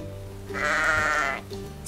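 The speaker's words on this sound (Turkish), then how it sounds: "Bu bir koyun." A toy sheep gives a single bleat, a buzzy, wavering cry of about a second rising out of a soft hum and then fading, heard close during children's play with toy farm animals.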